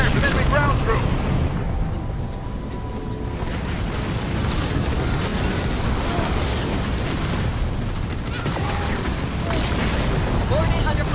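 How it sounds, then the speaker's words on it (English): Weapons fire and explosions rumble continuously through a Halo Wars 2 battle, with dense booms and blasts layered under radioed voice lines. "I'm receiving fire from enemy ground troops!"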